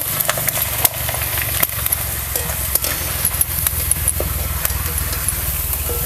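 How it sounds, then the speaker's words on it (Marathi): Sabudana papad frying in hot oil makes a steady, close sizzle broken by sharp pops and crackles throughout. There is no talking. "जास्त वेळ लागत नाही तळायला, पटकन तळून वरती येते"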